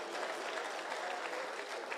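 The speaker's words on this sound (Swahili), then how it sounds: "mpigieni makofi" A crowd at a county security forum in Migori claps, a soft, steady patter of many hands heard from a distance that stays even and faint throughout.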